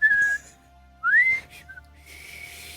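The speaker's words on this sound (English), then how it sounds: "I can only whistle when I blow in." A person whistles two short tones, a steady held note followed by a rising glide, clear and close with brief pauses between, against a faint steady hum.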